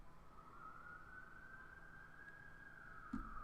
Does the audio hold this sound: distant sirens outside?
yes